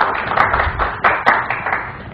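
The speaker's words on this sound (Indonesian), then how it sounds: "Dan kita beri tepuk tangan" An audience at a business talk in Indonesia claps for a professor. Scattered, fairly close claps with a few sharp individual hits stand out over a thinner wash of applause, with no talk.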